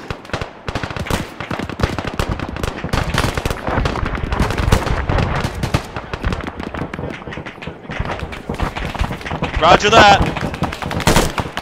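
Rapid gunfire rattles in dense, loud bursts close by, overlapping and continuous, with a brief voice over the shooting.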